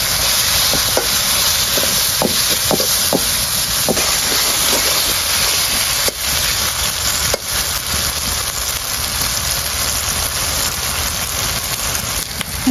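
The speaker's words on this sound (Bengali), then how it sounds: "সব মশলা একটু কষিয়ে নেব।" Spices with turmeric and chilli powder sautéing in a pan for a fish curry, a loud continuous hiss of frying with scattered taps and scrapes of stirring throughout.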